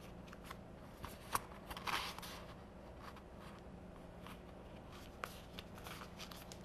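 Scissors trim an edge off a paper craft piece, giving faint close snips and light paper rustles with a couple of sharper cuts, very quiet overall.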